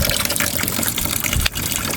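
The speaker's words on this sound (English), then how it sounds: "I'm just going to let what I got left in the bucket run through it" Antifreeze pours from a bucket and runs through a jet boat engine while it is being winterized, making a steady, fairly loud gushing, splashing flow throughout with one brief dip near the end.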